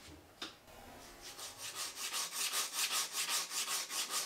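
Hand sanding of wood for a one-handed guitar build: after a brief knock, steady back-and-forth abrasive strokes build up and repeat in an even rhythm, close and fairly loud, with no voices.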